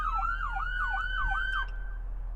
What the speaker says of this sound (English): My siren function, Whale.